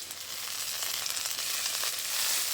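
Onion and ginger-garlic paste fry in a hot pan with a steady, loud sizzle that holds without pause, close by and with no voices.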